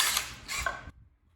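A drill bores a 5/16 hole through a wooden workbench stretcher with a board beneath, a brief, close, grinding whir that rises twice and then cuts off into near silence.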